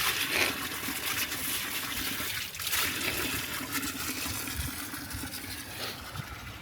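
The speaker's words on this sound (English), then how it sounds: "If you close it up, the water should be coming from the top." Water runs steadily from a public spring fountain in Bečej, Serbia, a continuous splashing gush heard up close with no talk.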